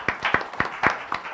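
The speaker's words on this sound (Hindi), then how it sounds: "एक बार जोरदार तालियां तो इनके लिए बनती" A few bursts of hand clapping from an audience at an organisation's dissemination meet in Jaipur, coming in short uneven surges over about a second and a half.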